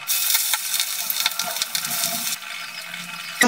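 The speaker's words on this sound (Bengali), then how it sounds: "এক এক করে মাছগুলো ভেজে নিচ্ছি।" Pabda fish pieces frying one at a time in hot mustard oil give a steady, close, bright hiss and crackle throughout, easing slightly toward the end.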